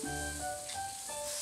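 A pan sauce of fish sauce, Chinese wine, soy sauce and sesame oil bubbling and sizzling, a steady close hiss broken by brief tonal squeaks, with no voices.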